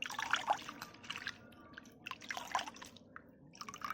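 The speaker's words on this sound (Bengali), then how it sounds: "টমেটো পোড়ার চাটনির জন্য ধনেপাতাগুলোকে আমি এখন পরিষ্কার করে ধুয়ে নেব।" Water drips and trickles softly while coriander leaves are rinsed clean for a tomato chutney, faint and irregular splashes with no voice.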